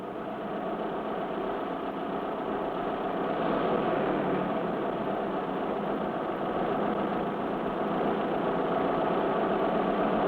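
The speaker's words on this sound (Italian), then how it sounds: "Aviazione e automobilismo si sviluppano grazie al motore a scoppio" An internal combustion engine runs steadily throughout, a continuous mid-pitched idling drone with even vibration, moderately loud and alone with no voices.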